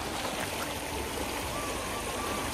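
The Choral river in India flowing over stones at a crossing point, a steady, close, broadband rush and trickle of water throughout, with no speech.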